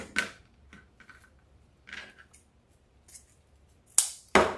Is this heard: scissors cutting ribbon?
yes